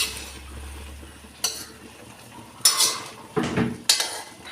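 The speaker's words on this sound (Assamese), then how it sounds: "এতিয়া আমি এইখিনি অকণমান লৰাই চাইছোঁ" A utensil clatters and scrapes against a pan while stirring kosu pitika, an Assamese taro leaf dish cooked without oil or water, with several sharp metallic knocks and scrapes over a soft background hiss.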